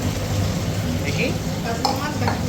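Katla fish fries in a pan and is stirred, giving a dense, steady sizzle with soft scraping, close and loud, while a person talks faintly in the background.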